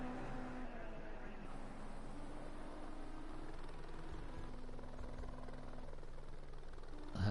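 Ginetta Junior race cars weave left and right to warm their tyres, their engines giving a steady, slightly distant drone with shifting pitch and no clear passes.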